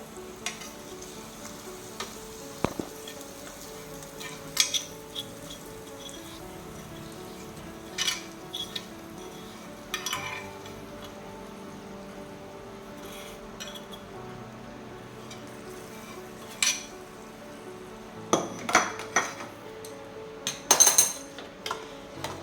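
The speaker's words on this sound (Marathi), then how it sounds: "आता ही फोडणी आपण ह्या कढीवरती टाकूया" Hot tempering of spices in oil is stirred and poured over raw mango kadhi, giving a soft, steady sizzle with scattered metal clinks of a pan and spoon, louder splashes near the end, no talking.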